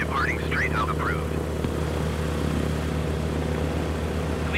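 A light airplane in Microsoft Flight Simulator, a Diamond aircraft at Akçay, Turkey, taking off at sunset, its steady propeller engine droning throughout at an even, close level, with brief radio voices near the start.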